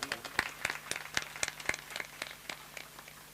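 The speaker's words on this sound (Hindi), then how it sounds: "इन सब के लिए जो है एक बार जोरदार ताली।" An audience at a Bhagwat Katha claps together, a brisk stream of overlapping hand claps at moderate volume that tapers off toward the end, with no speech over it.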